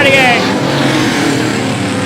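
Vintage race cars roar around a speedway, engines loud and close as one car blasts by, with a commentator's voice running over the noise.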